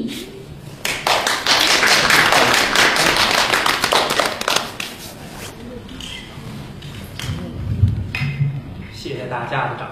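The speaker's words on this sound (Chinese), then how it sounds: "谢谢大家的掌声。" Audience applause at a live traditional Chinese storytelling show in a theater: a burst of clapping builds and holds for a few seconds, then thins to scattered claps, with a voice speaking over the tail.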